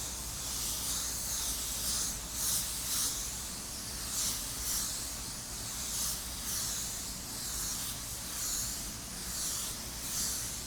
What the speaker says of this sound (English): that is what you want when you're spraying clear coat